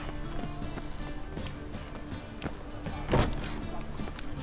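Galloping horse hooves in The Witcher 3 video game, a steady quick clip-clop rhythm running continuously under a dense bed of game ambience and music, with a louder thump near the end.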